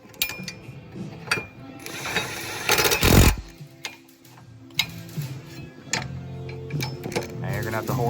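Ratchet clicking as 17mm rear subframe bolts are run in on a 2007 Honda Odyssey during motor/transmission mount work, quick rapid ticks in short bursts with a sharp clank midway, a voice talking over much of it.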